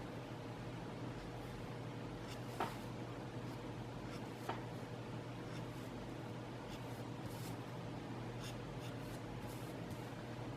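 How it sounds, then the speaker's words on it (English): A gray marker shades across paper with a soft, continuous scratchy rubbing, faint and steady, with a couple of tiny taps from the tip; no talking. "Shading with a marker is completely different than shading with a pencil."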